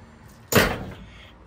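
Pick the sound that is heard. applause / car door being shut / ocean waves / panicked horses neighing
car door being shut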